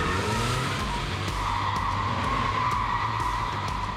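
Rear-engine, rear-wheel-drive Porsche 911 sliding with a sustained tire squeal over a loud engine roar, continuous and close for the whole stretch.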